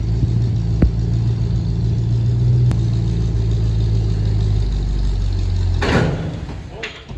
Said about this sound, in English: The old 304 kicking some ass hauling the big Chev.